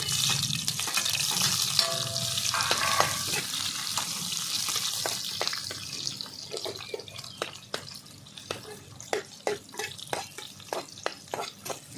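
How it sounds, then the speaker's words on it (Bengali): Chopped onion fries lightly in oil with a steady sizzle. Frequent scraping clicks and stirring taps from a spatula sound against the pan, growing sharper and more rhythmic in the second half. "পেঁয়াজটা একটু লাল করে ভেজে নেব হালকা করে"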